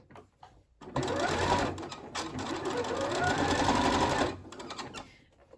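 A sewing machine stitches shirring rows on a summer top, running as one steady, close buzzing burst of several seconds that starts and stops abruptly.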